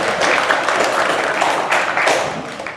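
Applause at a Toastmasters-style civic centre gathering greeting an entrance: a steady, dense patter of clapping from a room of people, fairly loud and close, tapering slightly at the end.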